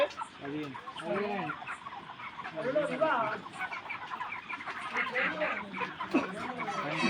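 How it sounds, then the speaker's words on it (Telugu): Chickens cluck and squawk in a busy, overlapping chorus, fairly close and steady throughout, with scattered handling clatter underneath as they are loaded in crates onto a truck. "ఈరోజు మా కోళ్ళు లిఫ్ట్ అవుతున్నాయి"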